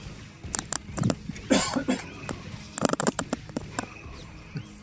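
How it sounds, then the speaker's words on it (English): Several short coughs and throat-clearing bursts come in small clusters, close and moderately loud, separated by quiet gaps. "Also got a little bit of a cough"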